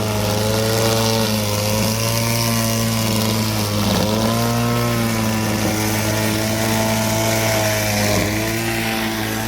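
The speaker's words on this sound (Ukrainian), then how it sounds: "ось така густа трава. Важко йде. Двигун працює на максимум." A cordless lawn mower motor drones loudly and steadily cutting thick grass, its pitch dipping briefly twice as it strains under load, with a constant buzzing whine throughout.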